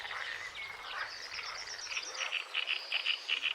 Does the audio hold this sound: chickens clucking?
no